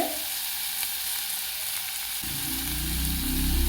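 Curry leaves, green chilies and tomato fry in a hot pan for a Tamil eggplant masala sambar. A steady hiss and crackle of oil continues throughout, then becomes louder and fuller toward the end.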